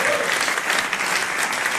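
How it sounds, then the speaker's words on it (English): A technology conference audience claps loudly and continuously, a dense burst of applause filling the whole moment. "so another applause. Huge applause!"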